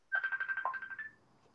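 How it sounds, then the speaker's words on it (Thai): An incoming call rings on a phone as a rapid train of about ten bright chirping beeps over a second, fairly quiet and close, trailing off into soft background hiss. "โอ้เดี๋ยวนะมีอยู่ดีมีคนโทรเข้าโอเค"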